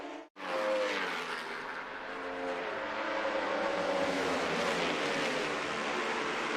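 MotoAmerica racing motorcycles, including Aprilias and a Yamaha, brake hard into a turn at Road America. After a brief dropout, a loud, continuous engine roar with shifting tones fills the rest of the clip, with no talk.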